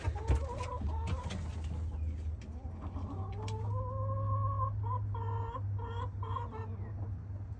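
Backyard chickens clucking close by, with a steady series of short, repeated calls over a constant low hum and no talking.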